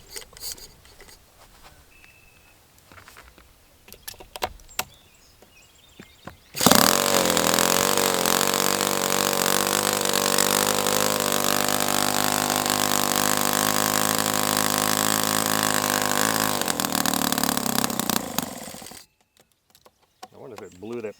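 An OS FS 120S-SP model four-stroke engine fires up after some quiet handling noises, then runs loud and steady at a high-pitched buzz for about twelve seconds before cutting off abruptly.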